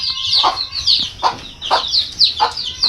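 A hen clucking nearby, four or five short, throaty calls in a loose rhythm, loud and clear against quiet background.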